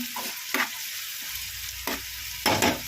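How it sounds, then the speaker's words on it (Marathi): Tomato and curry leaves frying in a pan as they are stirred for Bombay duck masala, giving a steady close sizzle broken by three or four sharp scraping stir strokes, with no talking. "त्यामध्ये टोमॅटो आणि कढीपत्ता दोन्ही टाकून त्याला पण थोडं हलवून घ्या"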